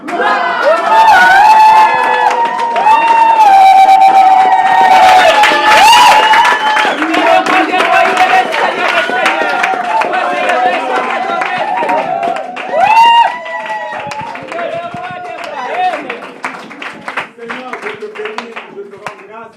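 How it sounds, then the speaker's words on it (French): A worship congregation in Paris cheers and claps in acclamation, a loud continuous crowd roar with shouts and applause layered over music and singing voices, dense throughout and easing slightly toward the end. "Reçois toutes ces acclamations qui viennent de ton peuple."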